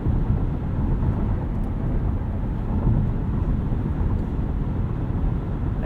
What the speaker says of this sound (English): It's pretty windy today, so we're probably getting a little bit more wind noise than we would normally.